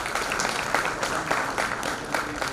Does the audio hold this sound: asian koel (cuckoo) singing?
no